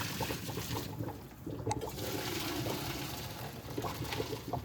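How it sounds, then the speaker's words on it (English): Cooked spaghetti and its hot water are poured into a strainer set over a bowl, giving a steady close rush and splash of water that runs for several seconds with no talking. "I'm gonna pour some of the water out."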